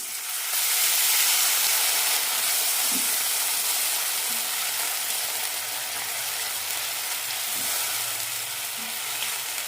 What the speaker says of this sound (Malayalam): അരക്കപ്പ് വെള്ളം ഒഴിച്ചെടുക്കാം